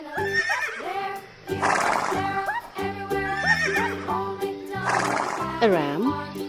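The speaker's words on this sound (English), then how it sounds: "horse" A toy farm horse lets out loud, close whinnies, several rising and falling neighs in a row, the last a long quavering call, over a pulsing musical backing.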